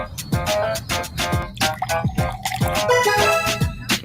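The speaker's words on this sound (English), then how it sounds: "pouring some milk" Milk pours in an uneven, gurgling stream for several seconds, with repeated splashes and drips close by, spilling into a container, loud against a quiet background.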